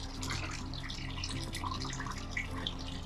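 Bleach-treated water runs through an off-grid water system, a steady gurgling trickle with scattered drips and splashes, moderately close and alone without speech.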